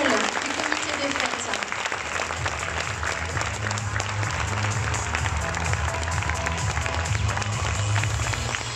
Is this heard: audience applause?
yes